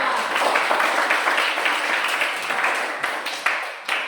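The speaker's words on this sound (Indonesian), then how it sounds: "mari kita berikan tepuk tangan untuk kelompok 4" A small group of students in a classroom claps together for a presenting group in a dense, even burst of applause that carries on steadily for several seconds.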